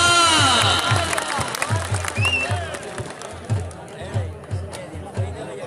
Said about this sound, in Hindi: वाह वाह वाह वाह, तालियां